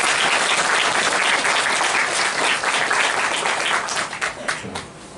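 A church congregation applauds its interpreters, dense steady clapping from a full room that thins into scattered claps and fades near the end.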